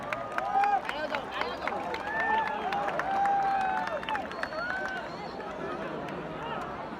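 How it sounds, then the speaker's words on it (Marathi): Crowd noise at a Dahi Handi festival in Mumbai as a Govinda troupe attempts an eight-tier human pyramid: steady, dense crowd babble and cheering with scattered clapping, loud and continuous throughout, with whistles or calls rising above it. "जोरदार टाळ्या झाल्या पाहिजेत"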